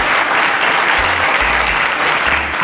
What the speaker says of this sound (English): A round of applause for Clinton.